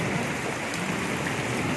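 Heavy rain pouring down during a Kalboishakhi storm amid flooded surroundings, a dense, loud, continuous hiss of water with no pauses.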